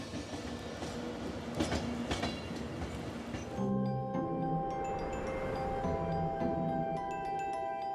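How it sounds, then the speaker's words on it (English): Passenger train pulling into a large city railway station before an early morning departure to London: steady rumbling roll with clattering wheels, then high metallic brake and wheel squeals ringing out under the station roof. "as the first train arrives to prepare for its early morning departure to London"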